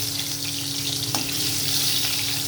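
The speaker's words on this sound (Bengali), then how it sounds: "এই তেলেই এবার আলুটাকে আমি ভেজে নেব ভালো করে" Potato pieces fry in hot oil left over from frying cauliflower, giving a soft, steady hiss and crackle with a faint watery texture throughout.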